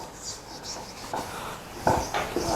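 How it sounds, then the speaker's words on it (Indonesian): A board is wiped clean with an eraser in a classroom, making a few soft rubbing swipes close by that grow slightly firmer toward the end. "Sekarang nih saya hapus ya."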